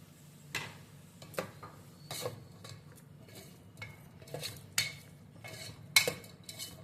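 A ladle stirs bottle gourd kulambu with milk in a metal pot, giving scattered, quiet clinks and scrapes in an irregular rhythm over a faint low hum, and no voices.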